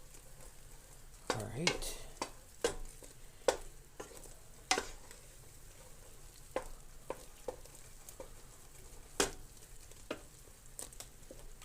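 A spoon stirs marshmallows melting in a pot, producing soft scraping with occasional sharper clacks against the pot. The sound is faint and close, with a brief spoken remark.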